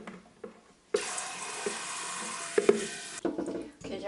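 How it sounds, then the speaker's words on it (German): Hot water poured from the tap into a preserving pot for canning plums, a sudden steady rushing stream lasting a couple of seconds with small clinks, then cutting off. "ich werde da jetzt möglichst heißes Wasser einfüllen"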